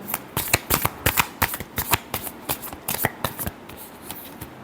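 Tarot cards shuffled by hand, a rapid close series of crisp riffling snaps and slaps in an irregular rhythm, quiet overall and without speech.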